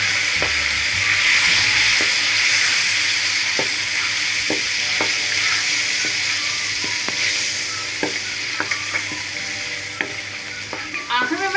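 Ginger and garlic frying in ghee as spices, salt, white pepper and green masala go in: a loud, continuous close sizzle with scattered clicks of a spoon stirring against the pan, growing busier near the end.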